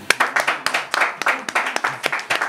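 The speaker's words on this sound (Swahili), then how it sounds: "Munipigie kwa makofi." An audience at a live event applauds with loud, close, fairly sparse claps that come in uneven bursts, and a voice is faintly heard under them.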